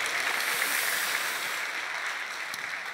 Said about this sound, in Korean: 다시 한번 격려의 박수 해주시기 바랍니다.